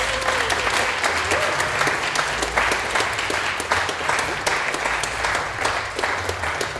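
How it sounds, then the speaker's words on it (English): An audience claps steadily through a dense, sustained round of applause at a parkour panel discussion in London, loud and close with a faint crowd murmur. "Oh, one last round of applause."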